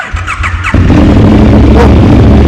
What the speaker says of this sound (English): in order to start your bike, you'll simply walk up with your key, you'll press that button